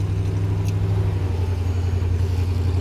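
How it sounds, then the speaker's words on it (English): A 1967 Corvette 427 with its 390 big-block V8 running steadily, a deep, loud low rumble with an even idle lope held throughout, close to the car with no voices. "I can tell you this thing is one strong running 390"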